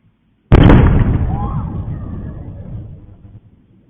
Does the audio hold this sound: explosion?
yes